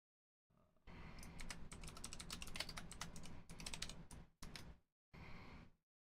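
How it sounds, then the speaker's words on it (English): Rapid typing on a computer keyboard, a dense stream of close clicks and key taps lasting several seconds with brief pauses, fairly quiet and alone without talk. "I can hear my keyboard."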